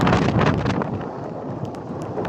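Strong wind ahead of approaching rain roars steadily into the microphone, a dense rushing buffet with gusts and no voices.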